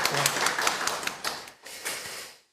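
A church congregation claps together during a Sunday worship service, a dense, even patter of many hands that runs steadily, then dips, swells again and fades out.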